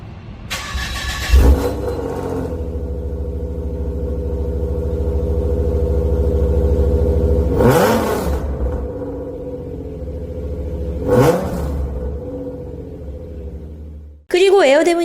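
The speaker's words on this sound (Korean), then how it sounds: "일단 젠쿱 하면은 배기에 대한 기대감이 좀 있을 거예요" A Hyundai Genesis Coupe with a modified exhaust idles with a deep, steady exhaust rumble, punctuated by a few sharp revs, ending with another loud rev.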